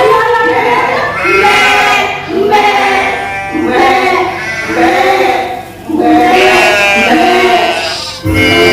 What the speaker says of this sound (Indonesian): sepertinya domba-domba kita benar-benar lapar